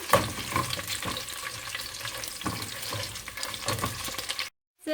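Meat and garlic fry in oil in a pan for an Iraqi okra stew, giving a steady close sizzle with crackles and stirring scrapes throughout, then a brief silence right at the end and no talking.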